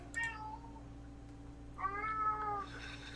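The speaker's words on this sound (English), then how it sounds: "My cat's having some fun." A pet cat gives two meows, a short one at the start and a longer, drawn-out one near the end, close and fairly quiet over a steady low background hum.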